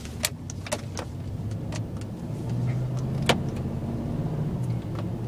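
New pickup truck rolling down the road, its low engine and road hum building gradually, with scattered small clicks and rattles from inside the cab.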